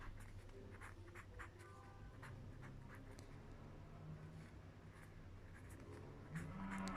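Handwriting with a pen on paper during a chemistry lesson on addition polymers, faint steady scratching strokes at close range over a low background hum.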